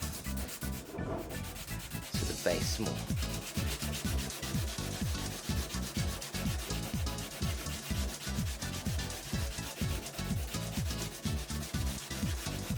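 Steady rhythmic sanding of melted, merged plastic on a katana prop blade, quick back-and-forth rasping strokes repeated evenly up close, with a few words spoken briefly.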